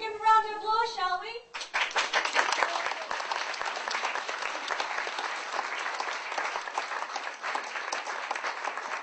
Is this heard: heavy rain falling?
no